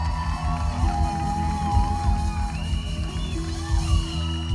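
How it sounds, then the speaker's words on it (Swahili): Church congregation at a crusade cheering and whooping with a tonal hum of voices, loud and crowded over a steady low musical drone from the venue's sound system, with shouts rising and falling throughout. "Tupigie Saimokei wetu makofi mazuri."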